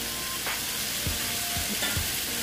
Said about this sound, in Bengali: এই মাছ সহ আমি এটাকে একটু কষিয়ে নেব